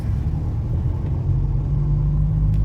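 A car pulls away on a driving-test course in Kağıthane, giving a steady, close, low engine rumble that holds throughout with no talking.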